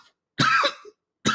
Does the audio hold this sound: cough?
yes